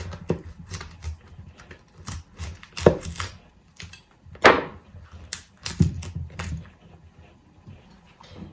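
Knife chopping through cauliflower on a cutting board in a home kitchen, a run of irregular crisp thuds and cuts, close and fairly quiet, with short pauses between bursts.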